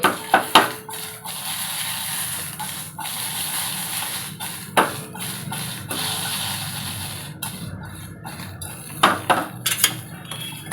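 A spoon or spatula stirs okra fry with chilli powder in a metal pan, giving sharp scraping clinks in scattered clusters over a steady low sizzle.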